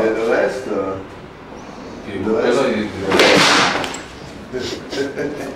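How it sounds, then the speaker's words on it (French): A chair falls over indoors, giving one short clattering thud in the middle of ongoing conversation between several people. "Qu'est-ce qui est tombé? Ah, la chaise."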